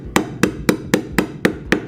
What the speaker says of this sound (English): I'm hitting our van with a hammer.